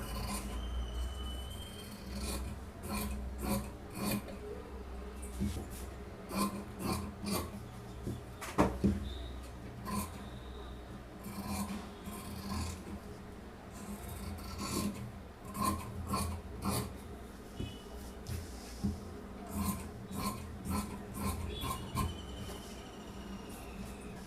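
Scissors cut through blouse fabric on a tailoring table, with repeated crisp snips and rasping slides of the blades through cloth, close up and with short gaps between them.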